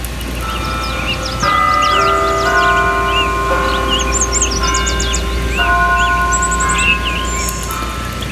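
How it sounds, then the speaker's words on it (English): A bell rings in The Sims life-simulation game, a steady series of clear chiming tones repeating across the stretch, mixed with bright chirping bird-like game sounds and no talk. "There's a bell ringing."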